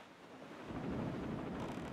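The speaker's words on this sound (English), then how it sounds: "Oh, it's raining again." Steady rain and a low thunder rumble from The Legend of Zelda: The Wind Waker HD, a broad continuous wash that swells slightly midway and holds without pauses.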